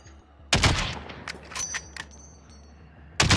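Gunshots in a shooter video game: a loud, sharp shot, then several lighter metallic pings and clinks, and another loud shot near the end.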